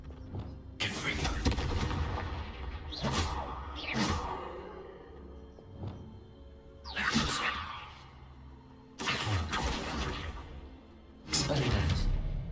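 Confringo blasting spells fire in Hogwarts Legacy: several separate whooshing bursts end in heavy booms, spaced a few seconds apart, with voices under the action.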